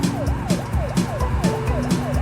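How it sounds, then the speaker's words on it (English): Cartoon ambulance siren in a kids' show, a fast repeating wail with steady swooping cycles, loud and close over a rumbling vehicle engine, with no talk. "It's an ambulance!"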